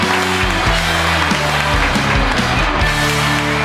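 Studio audience applause at a live radio show concert, a steady, loud wash of clapping running throughout, with low tonal music or hum layered beneath it.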